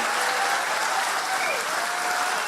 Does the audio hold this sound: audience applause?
yes